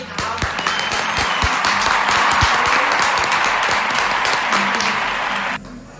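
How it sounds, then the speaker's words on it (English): An audience gives a round of applause for mothers, dense sustained clapping with a few sharp individual claps standing out, holding steady before cutting off near the end. "Let's give a round of applause"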